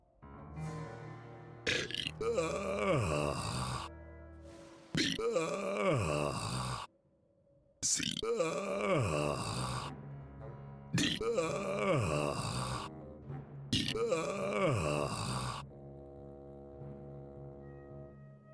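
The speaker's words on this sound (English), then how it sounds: "I can burp the alphabet." A character in the adventure game The Whispered World burps the alphabet as a string of about six long, deep, drawn-out voiced belches separated by short pauses, loud and close.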